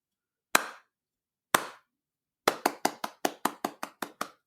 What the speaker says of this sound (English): just clapping